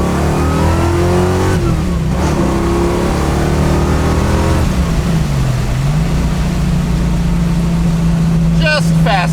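A SPEC-equipped 1967 Mustang engine revs and accelerates loudly and close up, its pitch rising and dipping through gear changes, with a brief chirping whine near the end.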